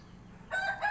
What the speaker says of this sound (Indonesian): jadi ayam itu masih seger-segernya melihat cahaya, makanya dia berkokok saja